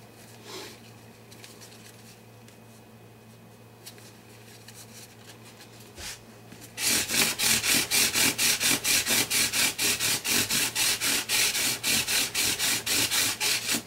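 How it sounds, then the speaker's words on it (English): Guitar frets on a Brazilian rosewood guitar are sanded with 1500 grit micro mesh: a quiet stretch, then a rapid, even run of loud, close rubbing strokes in a regular back-and-forth rhythm. "But I'm starting down at the most aggressive grit here, the 1500, and I'll just work my way through the papers."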